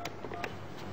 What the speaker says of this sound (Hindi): रैंडम नंबर मिल रहा है